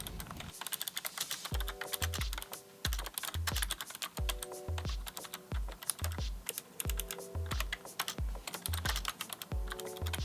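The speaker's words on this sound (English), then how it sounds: "Time to make a little type test." Fast, steady typing up close on a Razer Ornata V2 hybrid membrane keyboard, a dense run of soft clicky keystrokes with occasional heavier key presses at irregular intervals.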